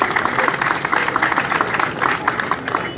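A crowd at a passing out parade for pipeline surveillance personnel in Delta State, Nigeria, claps in a loud, busy burst with uneven peaks, continuing for about three seconds.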